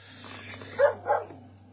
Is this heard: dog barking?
yes